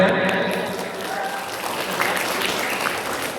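Audience applause at a high school quiz competition, a continuous wash of clapping that starts loudest and settles to a steady level, with a faint voice or tone mixed in near the beginning.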